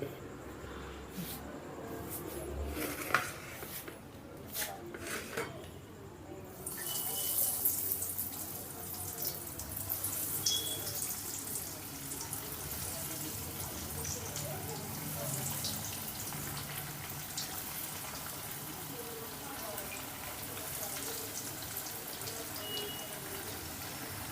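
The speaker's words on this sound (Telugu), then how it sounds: "మనం చికెన్ని ఇలాగ ఫ్రై చేసుకోవాలి" Cornflake-coated chicken popcorn frying in oil over a medium flame: a few handling knocks, then a dense, steady hissing sizzle that swells and continues evenly.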